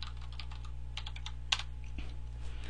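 Quick, light clicks from someone typing on a computer keyboard into a command prompt, quiet and close against a steady electrical hum, with one sharper keystroke partway through.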